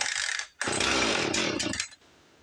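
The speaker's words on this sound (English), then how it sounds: "Once it fires, right back down into half throttle." Husqvarna 450 Rancher chainsaw with a defective recoil starter, a loud close engine roar that cuts out briefly, bursts back to a high rev, then drops to a quieter idle.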